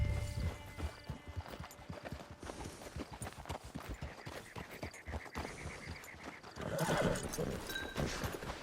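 Horse hooves clip-clop at a steady walking rhythm in the Red Dead Redemption 2 video game, close and clear, with a neigh and some croaking frogs in the background.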